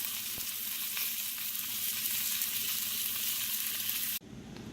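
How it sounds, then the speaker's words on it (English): Thick pork chops marinated in barbecue sauce fry in a cast iron skillet with a steady, close, loud sizzle that runs unbroken and then cuts off abruptly near the end. "There's some thick pork chops, so let them cook for about 3 minutes on each side again"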